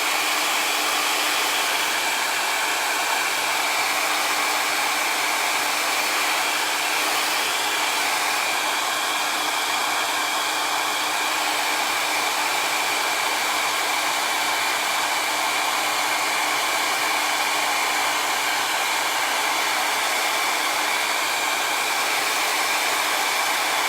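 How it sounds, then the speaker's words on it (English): A cheap handheld blow dryer blasts steadily and loudly for the whole stretch, drying acrylic paint on a hydrangea painting, with an even airy roar and no pauses. "I'm going to take a second and dry this with my handy dandy blow dryer"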